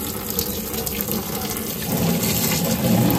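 A strong water jet hisses and sprays over a household air cooler being cleaned, a continuous broadband rush that swells slightly louder toward the end.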